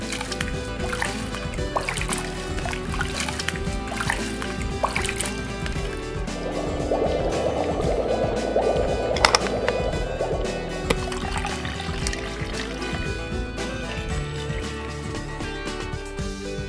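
A small toy teapot is swished and dunked in shallow pool water, making soft sloshing and gurgling that swells into a busier splashing stretch midway, close up over quiet background music.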